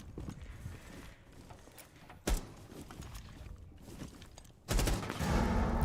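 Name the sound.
gunfire in the video game Rainbow Six Siege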